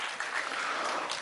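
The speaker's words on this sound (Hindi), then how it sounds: "जोरदार तालियां" A workshop audience breaks into brief, fairly dense applause, clapping at moderate volume throughout.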